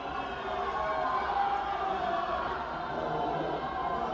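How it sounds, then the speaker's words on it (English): A crowd at a public meeting booing the county executive, a continuous muffled roar of many voices at moderate level that holds steady without distinct words. "They're booing the county executive."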